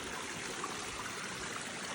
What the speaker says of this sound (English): it has a waterfall going through these stones